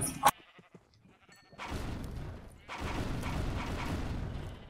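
Sheep in a Minecraft modpack give two long, noisy bleating bursts at moderate loudness, with a sharp click at the start and another at the end.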